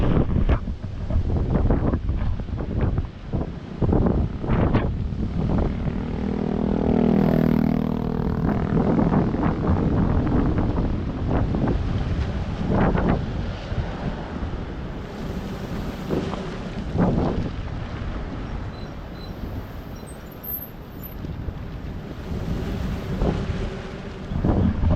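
Strong wind roars steadily over the microphone at sea during a typhoon, with huge storm waves crashing and surging throughout, loud and close, with no voices heard.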